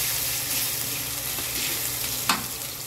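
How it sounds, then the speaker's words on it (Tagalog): Chopped garlic sizzles steadily in hot cooking oil in a pan, the start of a Filipino pork binagoongan with shrimp paste. The hiss is close and continuous, with one brief utensil clack near the end. "Painit na po ako ng mantika, tapos lagay ko na rin po yung bawang."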